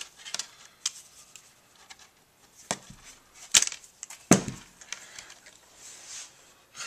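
A few sharp, isolated snips of cutters trimming excess picture frame hanging wire, with quieter handling clicks and rustles between them. Each cut is close, brief and crisp.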